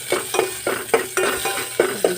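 Ginger and garlic sautéing in a home kitchen pan, a steady sizzle broken by a rhythmic run of scraping spatula strokes, about one every half second, close and fairly loud with no talk.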